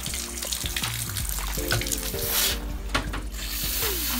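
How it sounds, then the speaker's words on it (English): Water running from a tap into a container for soaking play sand, a steady close splashing stream with gurgles, no talk. "turn on the water."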